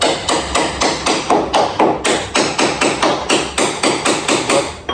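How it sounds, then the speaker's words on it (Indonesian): Steady run of sharp hammer blows, about three per second, striking a chisel to break open a wooden crate holding a solar panel for a home rooftop system, loud and close with no talking. "Kita melakukan pakai apa ini? Palu sama pahat."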